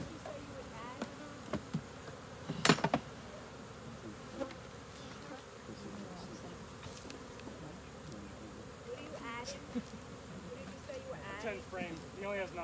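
Honeybees buzz steadily around an open hive during a September inspection, a dense continuous drone close by with occasional louder passes near the microphone and a few sharp knocks.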